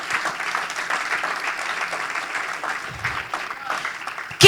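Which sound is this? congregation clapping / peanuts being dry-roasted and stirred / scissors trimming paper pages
congregation clapping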